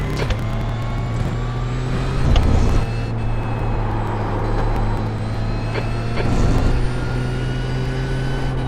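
A Porsche race car engine at Road Atlanta in the PCA Challenge Class, a loud steady in-car drone with two short surges from downshifts around two and six seconds.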